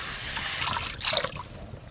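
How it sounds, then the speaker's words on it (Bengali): Water poured into an empty kadai (frying pan) for boiling eggs, a soft continuous splashing trickle that swells briefly toward the end, close and fairly quiet. "কড়াতে জল দেব।"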